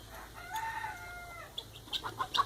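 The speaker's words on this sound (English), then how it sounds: "a video that I took of my dog chasing my chickens" Several chickens cluck and squawk in agitation while a pet dog chases them, with a few sharp calls growing louder toward the end.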